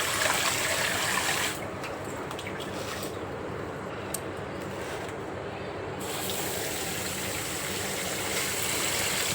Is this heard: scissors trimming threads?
no